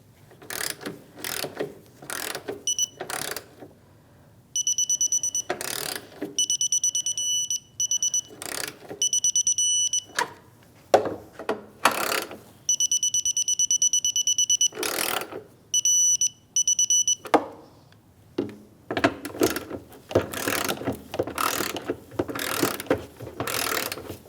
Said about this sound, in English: Now with our torque wrench, we'll torque each one of these nuts to 80 inch-pounds